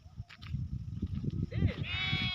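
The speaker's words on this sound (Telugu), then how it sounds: "గొర్రెలు అయితే ఇంకా నీళ్ళు తాగేసి మంద పోతున్నాయి" A flock of sheep that has just drunk water, moving off toward the shade of trees, gives a clear, wavering bleat near the end of the clip, while people talk underneath throughout.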